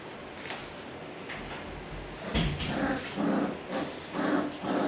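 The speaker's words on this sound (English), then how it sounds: "They're learning how to growl, learn how to bark" Aussiedoodle puppies at four weeks old growling and grumbling in short bursts, a series of low rough pulses that strengthen in the second half, fairly close and loud.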